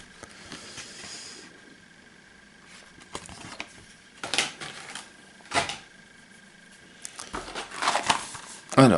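Components of the Sherwood Bandits board game shuffled and mixed by hand, an irregular rustle of cards and pieces with scattered clattering bursts, close and moderately loud.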